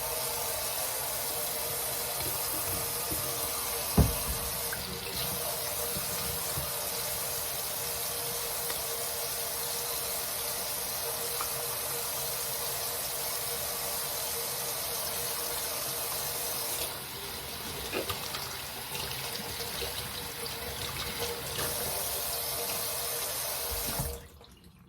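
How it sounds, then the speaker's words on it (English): Tap water runs steadily into a sink during handwashing with antibacterial soap, a constant close hiss with a brief clunk early on and a slight change in flow before it cuts off at the end. "First thing we're gonna do is wash our hands. We have some antibacterial soap."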